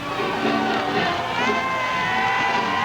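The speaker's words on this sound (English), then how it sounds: "You'll notice the applause sounds muffled. That's because everybody's wearing gloves." Stadium crowd at the 1980 Lake Placid Winter Olympics opening ceremony, clapping with gloved hands, gives a soft, muffled applause blended with steady cheering and shouts throughout.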